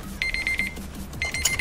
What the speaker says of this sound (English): That was my alarm to signal the video's ending.